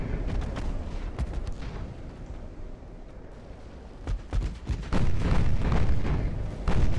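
Naval gunfire and a ship exploding in the Ultimate Admiral: Dreadnoughts battle game, heavy booming shots and a rumbling blast that swell and fade, loud and with no talk.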